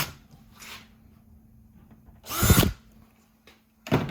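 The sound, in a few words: power drill drilling through punched metal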